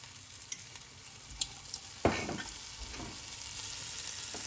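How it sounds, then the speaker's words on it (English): Bacon sizzles and renders in a pan with a little olive oil, giving a steady close frying hiss with a few stirring scrapes and pops. "we're gonna put the bacon and just start rendering that out."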